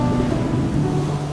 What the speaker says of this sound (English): The untamed power of wind and waves.